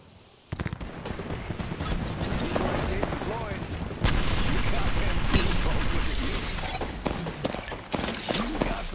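Video game shootout with sustained automatic gunfire and sharp impacts, starting abruptly after a quiet moment and growing louder midway, rapid bursts filling the scene.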